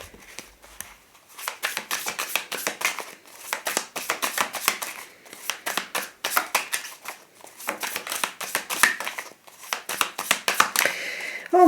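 Tarot cards being shuffled by hand, heard as rapid, close, crisp riffling bursts in uneven clusters with short pauses between rounds.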